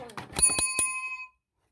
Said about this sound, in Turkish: önce yapan bassın diye bir tane zil